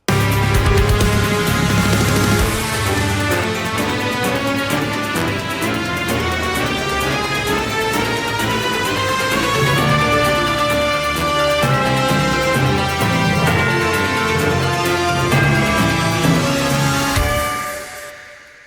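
Full, loud orchestral music from Monster Train 2 plays without pause, strings carrying a bold, heroic melody over a dense backing before fading at the very end.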